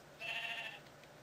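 A Minecraft sheep gives one short, clear bleat, close and alone, lasting just under a second.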